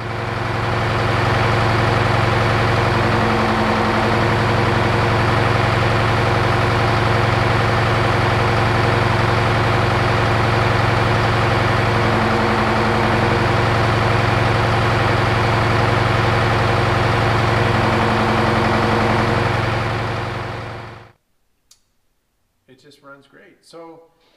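A Detroit Diesel 4-53 turbocharged engine that has ingested aluminum idles with a loud, steady low drone and faint periodic variations for about twenty seconds, then shuts off and leaves brief quiet handling noises.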